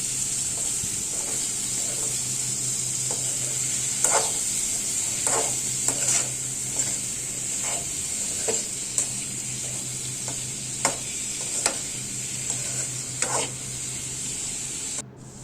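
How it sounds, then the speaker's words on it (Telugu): Cucumber pieces stirred in a frying pan while a prawn, cucumber and tomato curry is being made: a steady sizzle runs throughout beneath a low hum, with repeated clinks of the utensil scraping and stirring. "దీనిలో దోసకాయ ముక్కలు వేసుకొని బాగా కలుపుకోవాలి"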